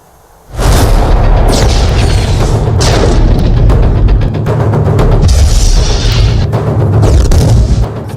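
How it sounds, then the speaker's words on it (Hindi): A Bofors artillery gun fires at an Indian Army position in the Tawang sector of Arunachal Pradesh: a loud, close blast erupts and rolls into a long, heavy rumble, with further booming reports echoing through it for several seconds. "Bofors gun"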